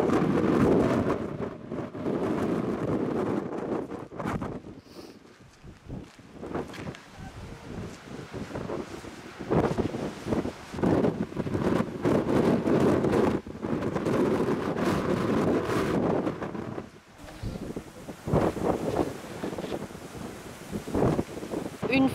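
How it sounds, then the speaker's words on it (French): Strong gusty wind buffeting the microphone on the Land's End coast in Cornwall, loud roaring and rumbling throughout with brief lulls, a voice faintly speaking beneath it. "Bon, c'est venteux, c'est pas chaud,"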